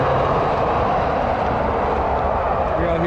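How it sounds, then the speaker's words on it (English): A train rumbles across a bridge over the Chicago River, a continuous loud, broad roar and rattle of rail cars filling the whole moment, with someone talking over it. "As the train goes over right there."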